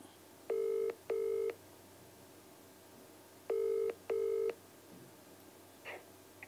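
Telephone keypad tones in two pairs of short, steady beeps, a pause between the pairs, then a faint brief sound near the end, fairly quiet in a calm room.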